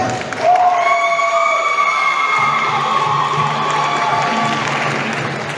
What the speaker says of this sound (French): je demande qu'on applaudisse très très fort pour l'accueillir, elle aussi